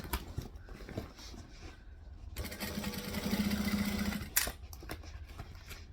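A sewing machine stitching a stained glass tote bag runs in one quiet burst of rapid, buzzing stitches lasting under two seconds, surrounded by soft handling noise and room sound.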